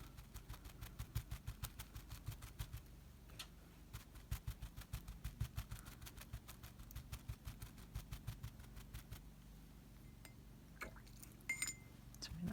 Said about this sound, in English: That's the sound of me getting water in my pen,